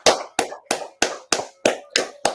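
Hands clapping in a steady rhythm, eight sharp claps about a third of a second apart, close and loud with no talk over them, during a Fulham versus Arsenal Premier League watchalong celebration.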